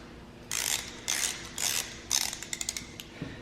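A Craftsman torque wrench ratchets on small head studs during an LS engine swap. Four short bursts of close, crisp clicking are followed by a run of evenly spaced single clicks.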